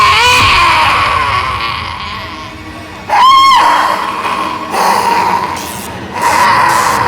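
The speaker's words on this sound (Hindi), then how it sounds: "चिल्लाने की आवाज सुनी?" Eerie screaming effect from a Hindi TV crime drama set in a housing society, rising as a loud wavering cry around the middle with shorter echoing bursts later over a dense, ominous background score.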